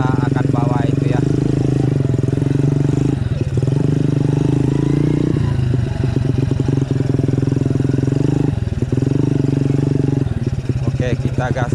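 Motorcycle engine running steadily throughout at close range, a low continuous drone with slight rev changes and mechanical clatter, voices talking over it now and then.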